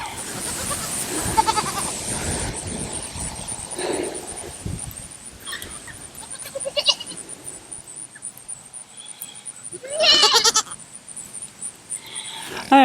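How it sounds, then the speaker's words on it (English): Goats on a homestead pasture bleat and yell repeatedly, several overlapping calls near and far, with one loud cry near the end and constant farmyard background. "Seems like all I do is get yelled at by goats."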